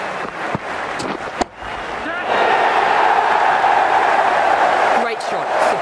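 A stadium crowd cheers and roars during an Ashes Cricket video game match, swelling into a loud sustained wash of noise after a batting shot and holding steady, with a commentator's voice alongside.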